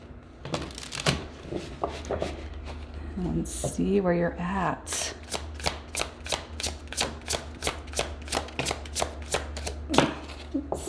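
Tarot cards shuffled by hand in a steady run of crisp, rhythmic riffles and snaps, close and fairly loud, with someone talking briefly over the opening seconds.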